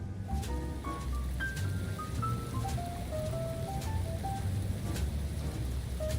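Steady rain falling in a video game, a constant dense wash heard alone at an even level with faint melodic tones drifting over it.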